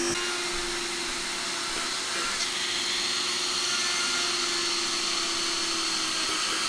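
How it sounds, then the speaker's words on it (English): A Henry Hoover vacuum cleaner runs steadily with a constant motor whine and airflow roar, loud and close, holding an even drone throughout with no talk. "switch the Hoover on"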